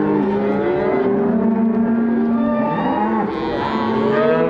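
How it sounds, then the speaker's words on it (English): Hundreds of cattle in a cattle drive along a town's main street, herded by cowboys on horses and dogs, low mooing loud and close, with overlapping calls layered over a steady background rumble. "there's just hundreds of cattle just all walking down the main street in the town"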